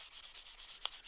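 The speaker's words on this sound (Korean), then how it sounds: "여기를 만져보신 다음에 고운 사포로" Fine sandpaper rubbed over a handmade solid-wood puppet part makes close, rhythmic back-and-forth scratching strokes, about nine quick even passes with no pauses.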